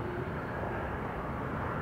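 A Southwest Airlines Boeing 737 arrives from Orlando to land at Austin Bergstrom, heard as a steady, dense engine roar that holds level throughout without rising or fading, fairly loud and moderately distant.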